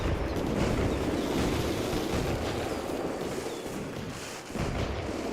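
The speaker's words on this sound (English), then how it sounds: "let's watch some fireworks shows on this game." A video-game fireworks show rumbles as a dense, continuous barrage of crackling bursts and booms, loud and sustained with a brief dip near the end.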